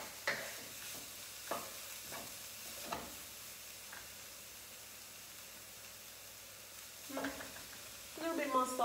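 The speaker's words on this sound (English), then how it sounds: "I will just stir fry it" Onion and cauliflower being stir-fried in a pan: soft scraping strokes of a utensil every second or so over a faint steady sizzle, with a louder clattering flurry near the end.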